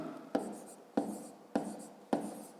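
A pen writing numbers and words by hand for a math exercise, making four short, evenly spaced scratchy strokes, each a sharp start fading into a soft scrape, quiet and close with no talking.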